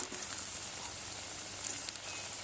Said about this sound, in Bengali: এবার আমি উল্টিয়ে এগুলো একটু ভাজবো।